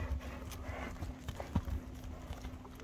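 A horse's hooves clip-clop as it is ridden and turned by the reins, uneven thuds close by over a low steady hum, with a brief snort-like burst midway.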